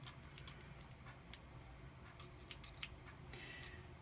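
Quiet, irregular snips and clicks of scissors over a low background hum, with short sharp cuts scattered throughout.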